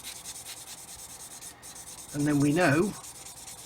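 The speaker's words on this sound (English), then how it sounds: "so I can just keep sanding away until that low area disappears" Fine sanding rubs steadily along the seam of a 1/24 Airfix F6F-5 Hellcat plastic model kit, a close, soft, continuous scratching heard under a man's brief speech.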